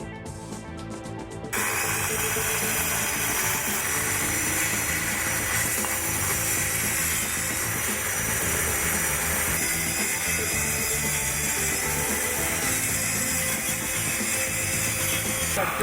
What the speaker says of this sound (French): Réglez la hauteur de la scie et procédez à la coupe des lames.